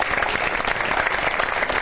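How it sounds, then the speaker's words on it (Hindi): Studio audience applause welcoming Suniel Shetty onto an election-season television show, a brief dense burst of clapping at steady strength with no voices over it. "जोरदार तालियों के साथ स्वागत।"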